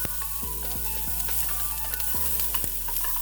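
Garlic fries in a small breakfast pan with a low, steady sizzle, while a utensil scrapes and taps the pan in several distinct strokes, close up and with no one speaking.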